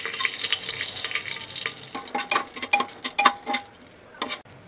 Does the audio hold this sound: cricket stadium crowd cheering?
no